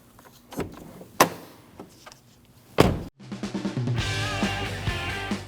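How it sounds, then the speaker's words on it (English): Interior front door handle of a 2013-2019 Ford Escape operated with sharp clicks and clunks, then the door shut with a solid thud, followed by a steady tonal sound. "Now close your door and make sure your handle works."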